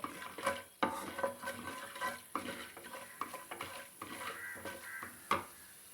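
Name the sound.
frying chana dal and urad dal in a pan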